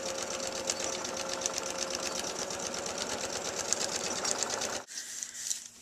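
A sewing machine stitches a back stitch in a rapid, even mechanical rhythm. It runs steadily and close for about five seconds, then stops, and some quieter handling noise follows.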